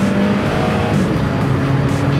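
A natural gas Honda Civic GX accelerates hard, its engine giving a loud, steady roar from inside the car with a droning tone and no talking.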